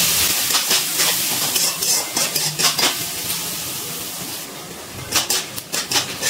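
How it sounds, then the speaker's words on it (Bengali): Chopped onions frying in hot oil with whole spices for egg biryani, a steady hiss broken by clattering stirs and scrapes of a utensil against the pan, loud and close. "এবার এর মধ্যে দিয়ে দিচ্ছি কেটে রাখা পেঁয়াজ। পেঁয়াজগুলো একটু ভেজে নেব।"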